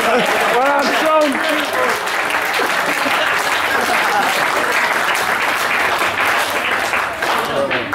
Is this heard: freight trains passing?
no